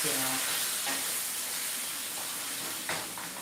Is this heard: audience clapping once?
no